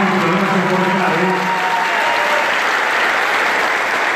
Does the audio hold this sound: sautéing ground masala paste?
no